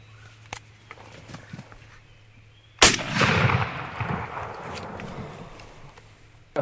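A single loud shotgun blast fired at a wild turkey during a hunt cracks out after quiet woodland ambience, its boom echoing and rumbling away over several seconds, with faint background noise and no talk.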